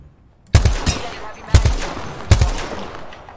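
Gunfire from the video game Apex Legends comes as three loud, punchy shots about a second apart, each with a booming low end and a short echoing tail.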